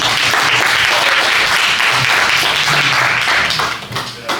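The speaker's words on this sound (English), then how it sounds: "So we give big applause to these two gentlemen" A graduation-ceremony audience applauds two gentlemen at a farming-as-a-business event, dense and steady clapping held close and loud before tapering near the end.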